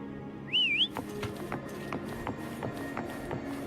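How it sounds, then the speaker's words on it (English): A rising-and-falling whistled call to summon Foam in the game Wuthering Waves, one clear melodic phrase lasting under half a second, loud over a steady ambient game soundtrack with soft rhythmic ticks. "Why don't you call Foam over? Try whistling."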